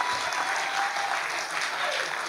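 A church congregation claps steadily and enthusiastically during preaching, a dense wash of applause throughout, with a few voices mixed in.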